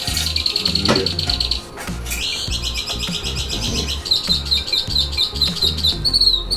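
A bird chirps in rapid high repeated notes, close and clear, its bursts of tweets continuing over a low rumbling background.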